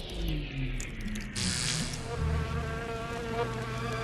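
Swarming flies buzzing close and loud, several overlapping drones whose pitch wavers and shifts as insects move near and away, continuous throughout.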